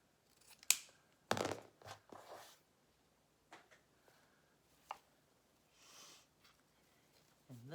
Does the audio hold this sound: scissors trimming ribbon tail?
yes